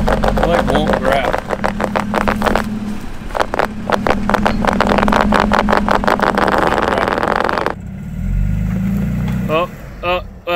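A high-centered Toyota Tacoma 4x4 revs hard as its wheels spin without grabbing, a loud, close engine roar with surging pulses and a drop near the end. Voices talk over parts of it.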